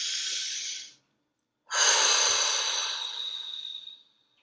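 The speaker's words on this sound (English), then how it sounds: "Please take a deep breath." A deep breath taken close to the microphone, a short inhale, a pause, then a long exhale that slowly fades, with no talking.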